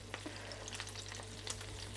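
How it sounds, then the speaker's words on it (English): Keema kebabs sizzle and crackle in a hot pan, steady frying with scattered pops and spits, a low hum beneath. "I'm just going to continue frying the remaining keema that I've got left"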